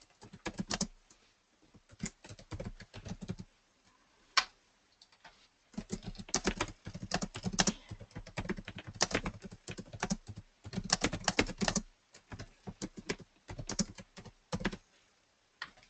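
Fast bursts of typing on a computer keyboard come in clusters of close, crisp key clicks separated by brief pauses.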